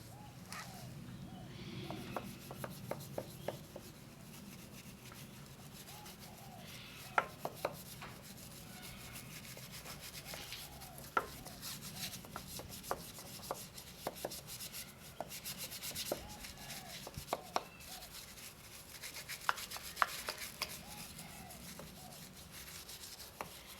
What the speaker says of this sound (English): Got our brush. That's just a nylon brush.